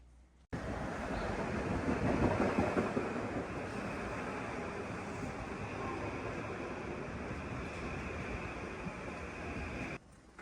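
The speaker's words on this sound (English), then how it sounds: "This morning, I'm taking the train from New Haven into New York." Steady rumbling ride on a commuter train from New Haven to New York, a continuous broadband roar with wind-like rushing, constant throughout with no talking.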